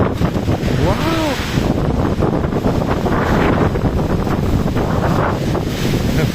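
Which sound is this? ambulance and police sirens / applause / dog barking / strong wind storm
strong wind storm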